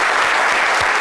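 Studio audience applauding on a French-language midday television talk show set, a dense, steady wash of clapping that stays loud and even for the whole second, with no voices on top.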